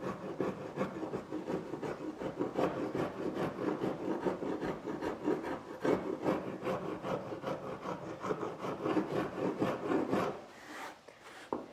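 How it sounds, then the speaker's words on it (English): A fine riffler file rasps back and forth over fairing compound on a wooden boat keel, steady close strokes in a continuous rhythm that stop abruptly near the end, leaving quiet. "this riffling file works well to hold on an angle"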